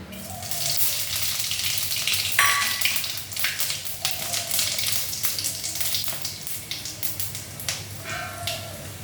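Panch phoron five-spice seeds sizzle and crackle in hot oil, a dense, steady frying hiss with scattered pops and a few clinks of a utensil, with no talking.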